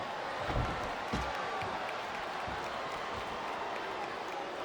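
A wrestling arena crowd during a no-disqualification match, a steady, distant roar of cheering and applause with a few louder thuds, running continuously beneath a commentator's voice.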